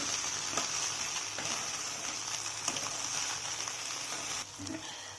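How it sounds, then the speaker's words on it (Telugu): Okra frying in a little oil in a pan, sprinkled with salt and stirred, gives a steady, close sizzle with a soft hiss and occasional light scrapes; no voices. "ఇప్పుడు ఉప్పు కలిసేలాగా మిక్స్ చేయాలి."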